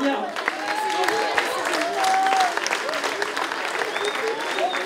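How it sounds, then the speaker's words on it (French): Steady applause from a crowd at an inclusive sports tournament in Narbonne, sustained clapping throughout with some voices mixed in. "vous pouvez les applaudir"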